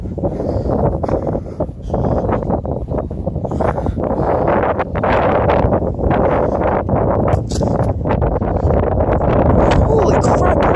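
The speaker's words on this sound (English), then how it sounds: "It's extremely windy here in Beepville," Strong wind buffets an outdoor microphone in steady, loud rumbling gusts throughout, with people talking over it at a dirt bike riding session.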